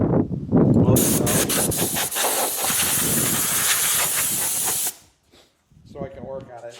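Compressed air blasts hard and steady into a dusty 1970s MCS 3233 stereo receiver, a loud continuous hiss running about four seconds before cutting off abruptly, with a voice briefly heard afterward.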